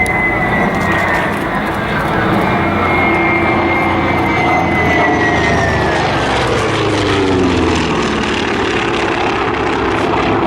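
Grumman WWII fighter with a piston propeller engine flying past at the Flying Legends 2014 airshow, a loud sustained drone whose pitch sweeps downward as it passes, no talk.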